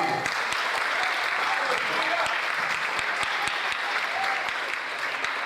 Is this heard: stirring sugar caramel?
no